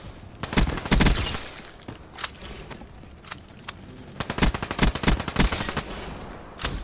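Rapid bursts of automatic gunfire from a Call of Duty: Black Ops 3 match, clustered volleys and single cracks spread across the clip, loud and close with no talking.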